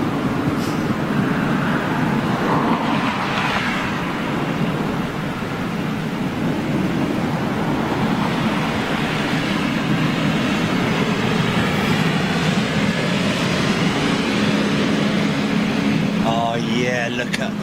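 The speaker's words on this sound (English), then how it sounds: "Is that a freighter landing on the other runway?" A freighter aircraft lands on a distant parallel runway, its broad, rumbling jet roar holding steady and loud throughout, with brief voices near the start.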